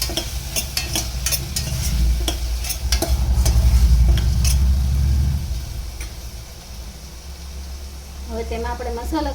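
Ginger, chillies and mixed vegetables of carrot, cauliflower, peas and potato fry in a pressure cooker. A steady, close sizzle runs under repeated clinking stirs of a spoon against the metal, and the frying swells in the middle.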